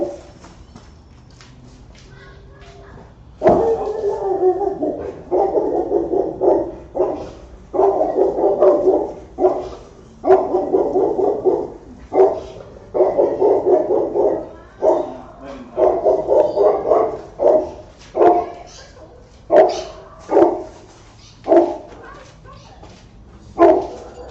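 A dog barks repeatedly outdoors in loud, evenly spaced bursts that go on steadily, then spread out toward the end, with a low background hum underneath.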